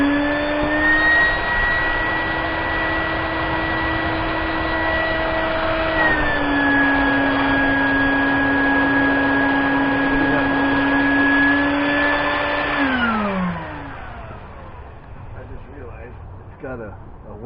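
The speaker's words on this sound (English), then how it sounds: "if you set the vacuum to suck" A vacuum cleaner pulls air out through a one-way valve, giving a loud steady motor whine that drops in pitch partway through and then winds down to a quieter rumble near the end.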